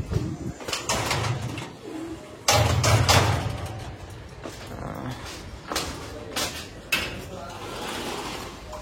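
Pigeons coo in a racing pigeon loft near the trapping doors, giving several soft low bursts at intervals alongside rustling, thumps and scraping sounds.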